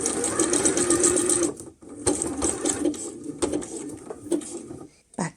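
A sewing machine runs in fast bursts while zigzag stitching fabric for a DIY slip, a long whirring run, then shorter starts and stops with brief pauses, close and loud with no voices.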